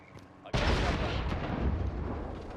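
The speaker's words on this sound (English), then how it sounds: "It's gonna explode." A helicopter explodes in a multiplayer video game: a sudden heavy boom breaks through quiet background and rolls into a sustained, rumbling blast that slowly fades.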